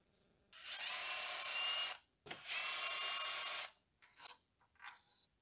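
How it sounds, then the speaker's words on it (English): A ratchet with a 16 mm socket and extensions loosens tight bolts on a BMW N42/N46 engine: two sustained whirring bursts close by, followed by a few short faint clicks and rattles. "Now you're going to have to use 16 millimeter socket and some extensions to loosen the bolts"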